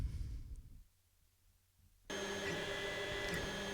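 A Creality Ender 5 Plus 3D printer runs in a room, quiet at first and then switching to a loud, steady mechanical hum with whirring fan noise that continues to the end.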